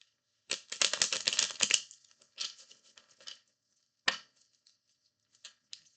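Tarot cards are shuffled in a quick flurry of crisp riffling clicks, followed by a few shorter bursts and isolated taps as the deck is squared, close and dry with no talk.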